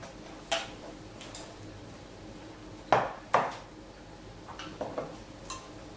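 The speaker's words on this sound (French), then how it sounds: "Je vais mélanger jusqu'à avoir une pâte homogène" Batter for Swiss meringue macarons being mixed in a bowl, heard as a few scattered, fairly quiet clicks and taps of a utensil against the bowl with pauses between them.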